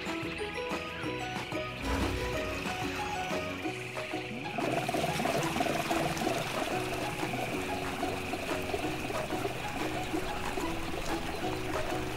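Water pours steadily from a hose while a cartoon train refills its tank, a continuous gushing stream under a busy musical score that grows louder partway through.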